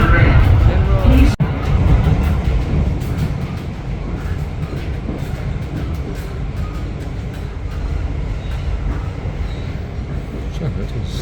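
A Metro Rail passenger train runs on an upgraded line near Pretoria, with a steady heavy rumble and rattling carriage noise heard from inside, a sharp clunk early on, and faint voices in the background.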